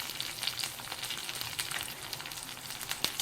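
Green chili, cumin, curry leaves, coriander, rice and pepper fry in a pan with a steady close sizzle, crackling with small pops and spits throughout, no voices.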